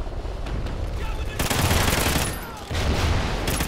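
Rapid automatic gunfire in the Call of Duty Ghosts multiplayer match, loud dense bursts with brief pauses in between, while a player talks over it.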